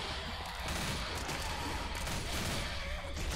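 Zombie-shooter gunfire in Left 4 Dead: a continuous, dense wash of loud, rapid shots and clatter with no clear gaps, filling the whole moment at a steady, saturated level.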